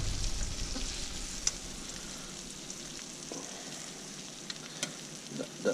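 Garlic and almonds fry in a mix of butter and olive oil, a steady soft sizzle with occasional light crackles and small pops, close and fairly quiet, with no talking.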